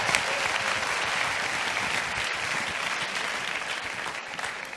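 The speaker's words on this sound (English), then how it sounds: "another round of applause for John Carr" A chapel audience claps steadily for a speaker, a dense, even applause that holds for several seconds with no voices over it.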